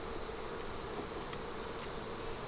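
Honey bees in an open hive during a colony split give off a steady, close, low drone of buzzing with no talk over it.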